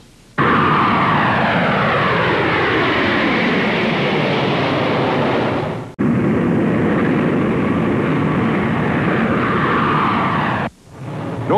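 Jet airliner flying near Idlewild airport, a loud, continuous roaring engine drone with shifting sweeping tones, briefly cut twice, heard alone.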